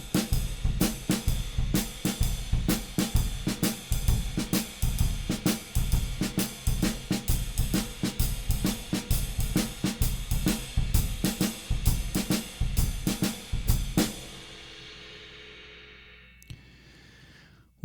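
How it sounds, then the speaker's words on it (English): A drum kit plays a double stroke roll split between bass drum and snare, opening with two bass drum notes. Dense, even strokes run for about fourteen seconds, then the last hit rings out and fades to near silence. "Beginning with 2 on the bass drum, it would sound like this."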